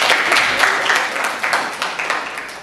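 Brief burst of clapping from a small group at a school scout-camp awards podcast, fairly close and lively, fading toward the end.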